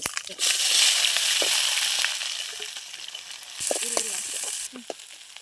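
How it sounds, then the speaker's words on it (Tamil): Onions and spices, including cinnamon bark, frying in a pan for chicken gravy during outdoor cooking in a cashew grove, giving a steady broadband sizzle that surges, eases, then flares again, with occasional stirring clinks. "வெங்காயம் கட் பண்ணி அதையும் போட்டு வதக்கிறேன்."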